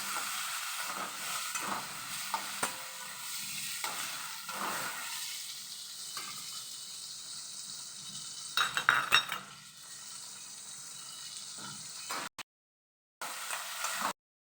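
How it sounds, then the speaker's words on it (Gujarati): Gunda (lasora berries) sauté in hot oil with mustard seeds, cumin and a pinch of asafoetida, giving a steady sizzle broken by spatula stirs and metallic clinks against the pan. "હવે એને પેલા તેલમાં જ સાતળી લેવાના થોડીક વાર।"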